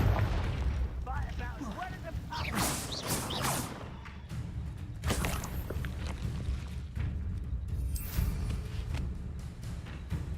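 Spell-casting blasts during a Hogwarts Legacy duel, several booming bursts and crackling impacts spread across a dense, continuous game soundscape, with a voice calling out over the action.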